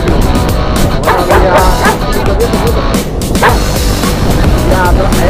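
Several dogs bark and yip loudly and continuously outdoors near Hoyo de Manzanares, with overlapping excited barks and whimpers close by and people talking beneath the din.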